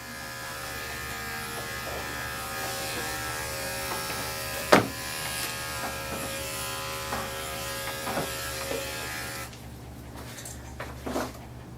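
Electric dog clippers with a 4 guard trimming a terrier's ears during grooming, a steady close buzzing hum throughout, with a few faint clicks and knocks.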